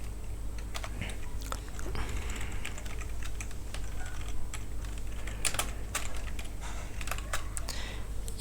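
Fingers tap steadily on a computer keyboard while typing C++ code, with quick, close, irregular clicks and occasional louder keystrokes, and a voice speaks softly in the background.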